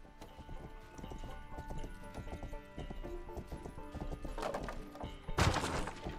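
Horse hooves clip-clop in a rapid galloping rhythm in a fantasy video game, close and steady, with a sudden crash near the end.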